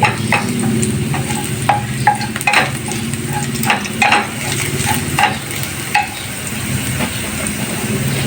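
Garlic sizzles steadily in a pan while being stirred, with repeated clicks and scrapes of a utensil over the constant frying hiss, close and fairly loud.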